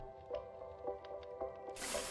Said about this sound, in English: And then you're going to take a little bit of a water bucket.